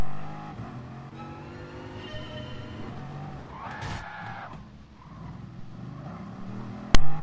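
Engine of a racing car in the Gran Turismo video game revving and shifting loudly through gears for several seconds, with a tire-skid squeal midway and a sharp bang near the end.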